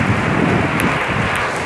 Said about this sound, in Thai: ฝนก็ยังตกอยู่นะครับ